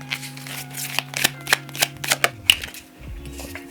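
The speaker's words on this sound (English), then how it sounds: "Let's get 2 more cards from this deck" Cards are drawn from a tiny little card deck with a quick run of crisp paper flicks and snaps, some clustered and some spaced apart, close up and with no talk.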